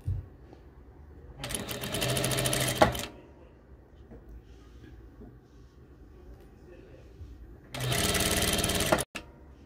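Sewing machine stitching a straight line on a fabric face mask: two separate runs of rapid, close mechanical chatter, each lasting about a second or two, with a quiet hum in between.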